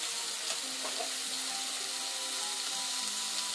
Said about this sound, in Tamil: மீடியம் ஃப்ளேம்ல வச்சு நல்லா ஃப்ரை பண்ணிக்கோங்க